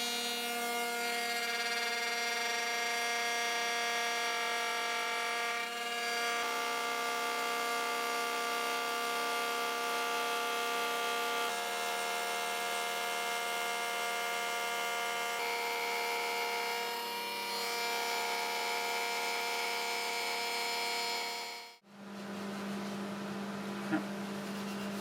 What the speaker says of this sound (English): with flush trim bit in my router table, I'll route the second piece to exactly the same profile as the first